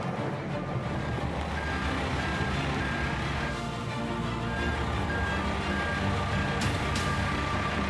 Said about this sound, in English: backing onto the connecting plate using just his side mirrors and attach all 4 trailers